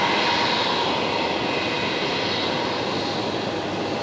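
A Qantas A380 taxis at Brisbane Airport, its jet engines giving a steady, loud, broadband roar with a low rumble that holds evenly throughout, with no voices over it.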